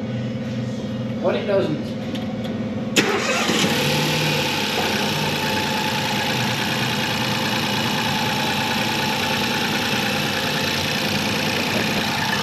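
A Ford Fiesta Econetic engine cranks, catches and settles into a steady, even idle that continues to the end, with brief talk just before it starts.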